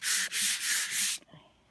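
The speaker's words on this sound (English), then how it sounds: "do it by hand again with the 220, just to get it nice and smooth" Chalk-painted wooden farmhouse table being hand sanded with 220-grit paper, a close, loud scratchy rasp in long strokes with brief pauses between them, trailing off to quiet at the end.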